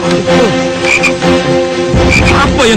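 Loud, close frog croaking in an Indonesian TV drama scene, repeated throaty calls running almost continuously with a slight break midway, and no talking.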